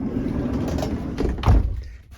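A car door, insulated and taped on the inside, swings shut with a dull, muffled thud close by, preceded by a soft rustling handling noise and no talking.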